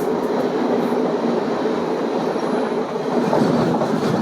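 A train runs on railway track between Mathura and Delhi at about 130 km/h, heard as a loud, steady rolling roar with faint rhythmic wheel clatter throughout.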